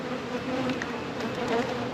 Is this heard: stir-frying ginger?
no